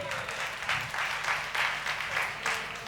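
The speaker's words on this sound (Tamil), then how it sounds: "கைத்தட்டு." A church congregation at a Sunday service claps in a short, even rhythm, the beats coming in regular pulses against a faint roomy background.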